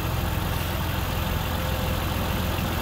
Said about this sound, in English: BMW 2-litre straight six